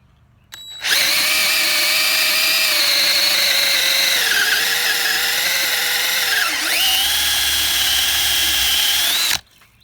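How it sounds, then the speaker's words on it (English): A power drill with a 3/4 inch bit whines loudly and continuously for several seconds, its pitch dipping briefly under load before it cuts off. "So we're going to mark that circle out and we're going to drill right there."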